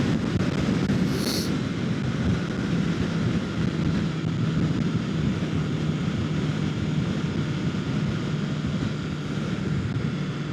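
Steady, loud wind roar buffets the microphone throughout while riding a 2025 Kawasaki Ninja 650 motorcycle on a cold ride, with a continuous low rumble underneath and no break in the noise.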